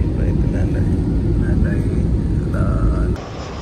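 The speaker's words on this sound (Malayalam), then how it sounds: "ലാൻഡായി, ഫ്ലൈറ്റ് ലാൻഡായി." Inside an airliner cabin as the flight lands, a loud, steady engine and rolling roar fills the space and then drops sharply near the end, with faint voices underneath.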